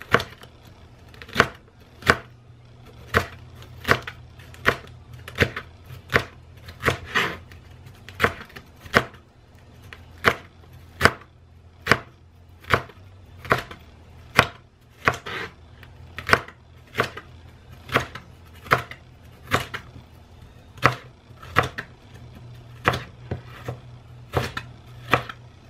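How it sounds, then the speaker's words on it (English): A knife slices through food on a cutting board while making puffy tacos, with about thirty crisp, evenly spaced chops close up over a low background hum and no talking. "now I can go ahead and just slice it"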